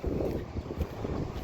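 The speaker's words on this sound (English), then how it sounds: "It's getting windy like crazy out here." Strong gusty wind buffets the microphone on an open farm field, a low rumbling roar with uneven surges over a short stretch.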